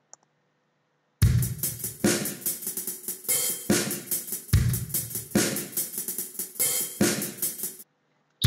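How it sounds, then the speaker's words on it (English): Programmed drums from a melodic rock track, crisp snare hits and ticking hi-hats with a little kick underneath, playing a steady rhythmic pattern for about six seconds after a short silence, then stopping abruptly. "first part of the melody, it's pretty much just a snare,"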